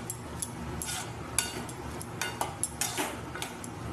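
A metal spatula scrapes and clinks against a pan in an irregular rhythm as dal is stirred and sautéed with masala, with a faint, steady background hiss.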